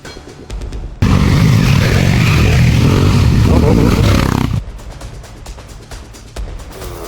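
A scooter rides past at a waterfall outing, its engine roar swelling suddenly and loud for about three and a half seconds before dropping back into background noise and nearby voices.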